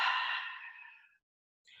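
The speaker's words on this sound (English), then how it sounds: "Then a big exhale." A big, deep exhale through the mouth during a yoga session: one long breathy rush that starts strong and fades out over about a second, followed by a faint hint of the next breath.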